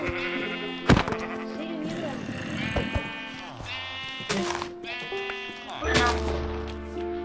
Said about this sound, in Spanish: Hay otra oveja. La mato.